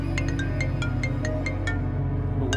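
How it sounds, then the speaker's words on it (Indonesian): A mobile phone ringtone chimes as a quick run of bright, repeated melodic beeps over a steady low hum. The beeps pause briefly and then start again at the end. "siapa sih siang-siang gini nelpon?"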